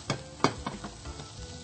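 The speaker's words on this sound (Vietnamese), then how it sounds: "Và đảo đều để cho phần hạt nêm Asiagon này tan đều ở trong cơm" Cooked rice being stir-fried in a pan with shrimp and pumpkin, seasoning stirred through, giving soft sizzling with a few distinct scraping strokes of the spatula, close and alone.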